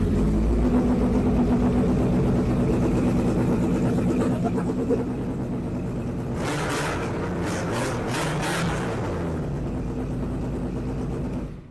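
Motorcycle engine revving hard in a sound test, a loud sustained roar that rises into several sharp throttle blips mid-way before settling back to a steady drone.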